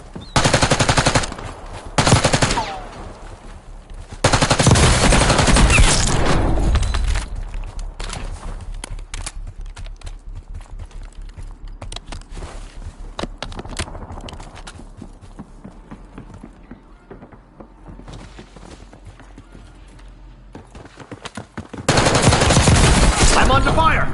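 Gunfire in Call of Duty Warzone on Rebirth Island: loud bursts of rapid automatic fire come in several clusters, with quieter stretches of footsteps and game sounds between, and a game voice announcer briefly heard.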